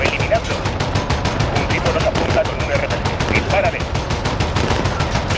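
Rapid automatic gunfire in Call of Duty: Modern Warfare, a dense, continuous rattle of shots with scattered impacts, loud and steady throughout, with voices mixed in.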